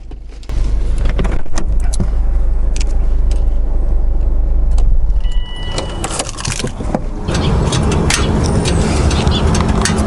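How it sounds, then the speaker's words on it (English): Inside a 2004 Subaru WRX STi, a steady low engine drone with faint scattered metallic ticks and taps from the heat shields on the headers and up pipe, the drone shifting partway through as the car keeps moving. "So this ticking and tapping, you're going to hear this for a little bit."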